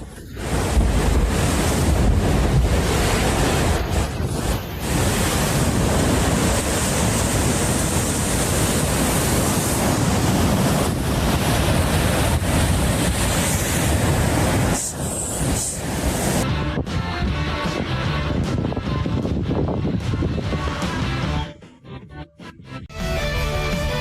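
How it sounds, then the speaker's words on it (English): Ocean waves crashing against rocks: a loud, continuous roaring wash of surf with heavy wind buffeting, surging steadily, briefly dropping near the end before the roar returns. "The force of the ocean's waves crashes against the rocks, making the whole scene even more intense."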